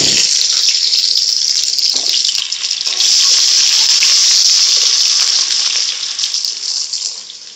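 Onions and cumin seeds sizzling in hot oil, a loud, steady hiss of frying that runs continuously throughout, with a brief dip partway through before it settles back to a strong, even crackle.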